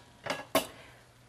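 Dry pasta dropped into the middle of a cooking pan makes two quick rattling clatters a fraction of a second apart, close and fairly loud, with a faint hiss trailing after.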